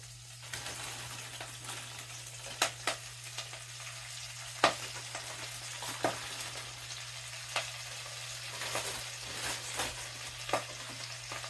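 Pre-washed collard greens cook in a skillet with a soft, steady sizzle, scattered with sharp clicks and crackles and light stirring knocks, fairly quiet and close, with a low hum beneath and no talk.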